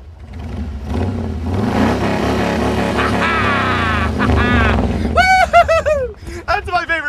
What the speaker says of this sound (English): When I rev this bike, I'm asking the engine to transfer its energy more quickly.